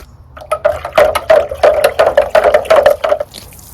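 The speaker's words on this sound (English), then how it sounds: "I'm going to go ahead and water it in with some worm casting nutrient tea" Worm casting nutrient tea, mixed at 3 to 4 ounces per gallon of water, is poured around a newly planted tomato plant, giving close splashing and trickling in repeated short bursts with brief gaps between them.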